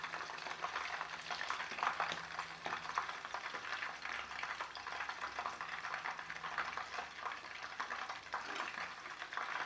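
Chicken 65 leg pieces deep frying in hot oil at a roadside-style stall, giving a continuous, moderately quiet bubbling sizzle with a dense crackle that stays even from start to finish, with no voices.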